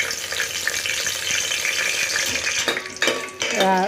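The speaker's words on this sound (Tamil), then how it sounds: "பிரிஞ்சி இலை பட்டை கிராம்பு ஏலக்காய் மொராட்டி முக்கு எல்லாம் சேர்த்து அதை போட்டு பொரியட்டும்" Whole spices, bay leaf, cinnamon, clove, cardamom and marathi moggu, fry in hot oil for chicken biryani, a dense steady sizzle with a few metal clanks and scrapes toward the end, close up.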